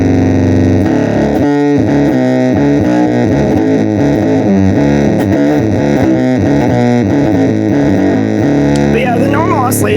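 A heavily distorted fuzz guitar howls into squealing, pitch-shifting oscillation, loud and continuous, with dense sustained tones sweeping up and down.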